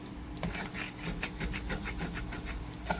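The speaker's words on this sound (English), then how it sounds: "I'm scraping up all of those bits" A utensil scrapes browned fond off the bottom of a pan while making smothered steak, a close series of rhythmic rasping strokes with no talking.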